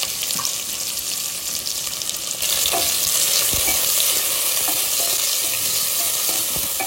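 Chopped onions frying in hot oil and ghee for biryani, a loud steady sizzle throughout that grows louder and fuller as they hit the pan, with occasional stirring scrapes.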